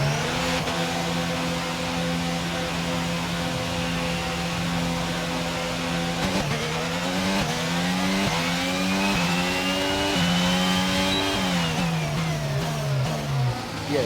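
A Red Bull Honda Formula 1 engine in a racing video game holds a high, loud, continuous drone, then rises and falls through quick gear changes, with no talking over it.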